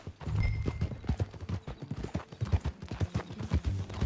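Horse hooves clip-clop in a quick, steady galloping rhythm in Red Dead Redemption 2, fairly close, with a brief neigh early on.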